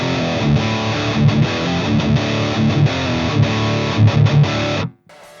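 Heavily distorted electric guitar played through a pedalboard with a noise gate engaged and all knobs turned to maximum, a loud sustained riff that cuts off abruptly into near silence at the end as the gate closes.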